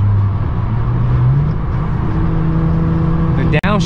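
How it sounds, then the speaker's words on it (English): An Audi S4 with a DSG transmission pulls hard, its engine note climbing and then dropping quickly as it shifts, loud and close, with a brief sharp break near the end. "The downshifts are like instant, as you guys can see, like just goes."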